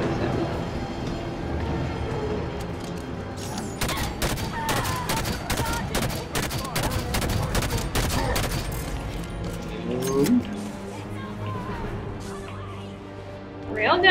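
Railgun fire and other weapon blasts in the video game Halo 5: Guardians, a run of sharp, evenly spaced shots over ongoing battle noise, with a person talking through much of it and a heavier burst near the end.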